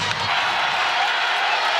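A steady crowd roar fills a basketball arena at a women's WNIT championship game between Kansas and Columbia, a broad, sustained wash of voices and noise throughout.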